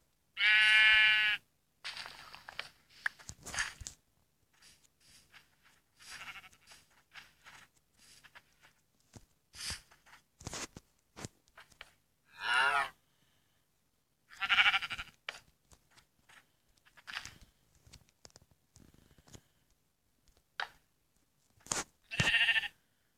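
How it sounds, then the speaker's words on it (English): Minecraft sheep on an animal farm give several separate bleats spaced across a quiet stretch, interspersed with soft footsteps and small game noises. "Sheep"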